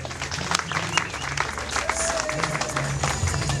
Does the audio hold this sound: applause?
yes